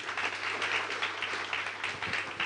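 A classroom audience of students applauds a fellow student, dense steady clapping from many hands that holds for a couple of seconds with no talking over it.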